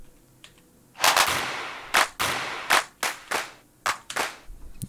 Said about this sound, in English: I want to find claps.